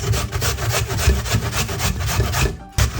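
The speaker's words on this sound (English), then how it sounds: "I'll be grating my ginger." Fresh ginger grated by hand on a grater, a steady rhythmic rasping scrape repeating about every quarter second, close and loud, with a brief pause near the end before the strokes resume.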